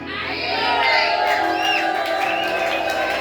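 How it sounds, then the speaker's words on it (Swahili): A church congregation at a youth worship service cheers and ululates loudly, a dense, sustained wall of shouting and high trilling voices that fills the room without pause. "Hebu tupige shangwe na vigelegele kwa Bwana."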